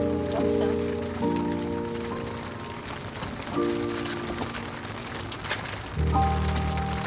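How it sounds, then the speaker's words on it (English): Heavy storm rain drums steadily on the roof of a VW California campervan during Storm Denis, a continuous dense patter with a voice talking over it. "Spilling down. Pissing some rain."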